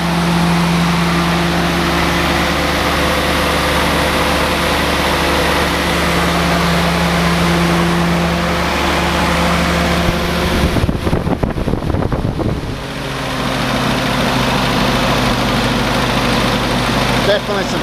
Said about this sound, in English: Definitely some tapping in the valves.